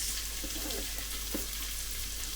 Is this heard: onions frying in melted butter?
yes